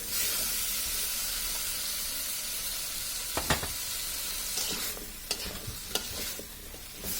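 Raw taro being stir-fried in a pan, a steady sizzle and hiss running throughout with a few sharp utensil scrapes and clacks near the end, fairly close and without speech.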